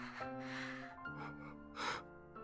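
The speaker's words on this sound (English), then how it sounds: "All I could hear was her pained breathing." A woman's pained breathing over a phone call in the visual novel Chaos;Child: a few soft, strained gasps and shaky breaths, faint and close, over a sustained musical drone.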